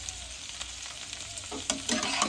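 Chopped tomato and vegetables being stirred in a pan for egg chilli give a soft frying hiss, with a few louder spoon scrapes and clacks toward the end.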